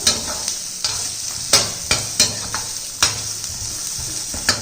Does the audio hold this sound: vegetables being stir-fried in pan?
yes